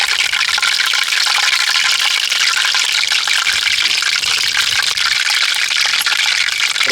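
Mirchi bajji, green chilies coated in gram flour batter, fry steadily in hot oil with a constant bright hiss that stays even and close throughout, with no voices over it.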